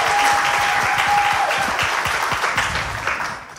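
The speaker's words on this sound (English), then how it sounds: "Can we give them a round of applause?" An audience gives a round of applause for the staff at a church event, a dense, steady wash of clapping that holds strong for several seconds and then slowly thins out toward the end.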